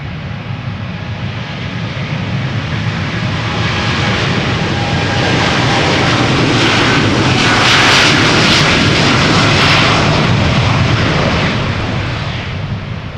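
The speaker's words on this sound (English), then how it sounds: "It is another 787-10 Dreamliner, just like the previous one." A KLM Boeing 787-10 Dreamliner bound for Panama City takes off at Amsterdam Schiphol, its jet engines roaring loud and close, swelling to a peak midway and then easing slightly while staying strong. No one talks.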